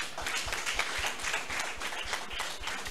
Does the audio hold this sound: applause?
yes